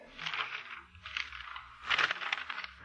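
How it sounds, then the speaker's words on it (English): Telephone book pages riffle in a radio-drama sound effect: three close bursts of papery rustling and flapping, the last one loudest, with quiet gaps between. "The sound of the flipping pages."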